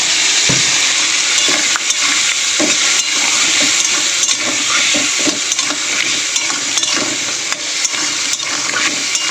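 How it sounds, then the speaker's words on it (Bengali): Spice paste with chili powder, turmeric and a little water sautés in a pan, giving a loud, continuous bubbling sizzle with scattered stirring clicks, close and steady throughout. "এটা আবার একটু জল দিয়ে মশলাটা আমি কষিয়ে নেব"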